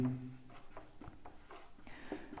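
Pen strokes scratch and tap on paper as a maths distance formula is written out, faint, close and intermittent in short strokes.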